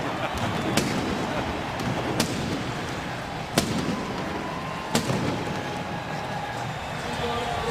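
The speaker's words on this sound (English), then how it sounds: "There goes the cannon again." A stadium cannon fires after a Tampa Bay touchdown at an NFL football game, several sharp booms spaced seconds apart over a loud, steady crowd roar.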